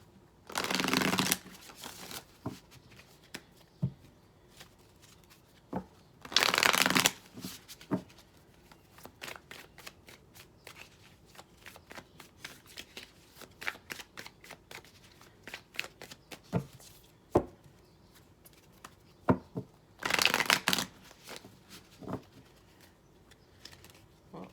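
Playing cards being shuffled for a reading: three loud riffle bursts at intervals, with softer flicks, taps and card handling scattered between them, close and with no speech.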